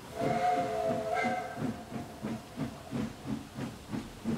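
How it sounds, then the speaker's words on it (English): A Thomas & Friends steam engine sounds a short whistle, then a steady rhythm of hissing steam chuffs repeats about twice a second, moderately faint and unaccompanied. "It's a steam engine."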